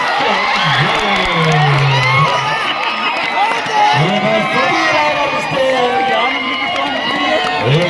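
Spectators at a kabaddi semi-final match cheer, whoop and shout continuously, loud and close, with a raised voice carrying over the crowd noise.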